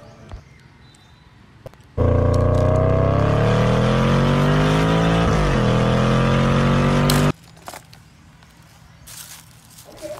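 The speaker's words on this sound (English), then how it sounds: "Blue sports car!" A blue toy sports car plays an electronic engine sound: a loud revving roar that rises and dips in pitch for about five seconds, with quiet handling noises before and after.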